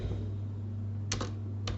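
Keys on a computer keyboard are typed while text is entered in AutoCAD, two quick clusters of close, crisp clicks over a low steady hum.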